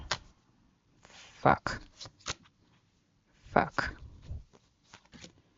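Playing cards being shuffled in two quick riffling bursts, close and crisp, separated by a pause with faint background sounds.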